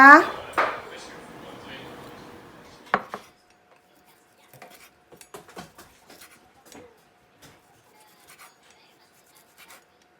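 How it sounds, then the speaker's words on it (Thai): Red roast pork being sliced and plated in a home kitchen: a few clattering dish and utensil knocks at first, then sparse light cutting and plate taps, quiet and close with no talk. "เดี๋ยวเรามาหั่นแล้วก็ แต่งจานกันเลยนะคะ"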